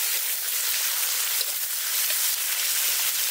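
Sliced onion hits hot oil spiced with whole garam masala and cumin in a village kitchen, giving a continuous bright sizzle that stays steady and close for the whole stretch.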